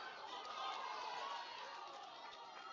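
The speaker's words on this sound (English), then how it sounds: "Crowd getting behind him." Crowd at a junior national weightlifting meet cheering on a lifter attempting his third lift, a steady wash of shouting and applause sustained throughout.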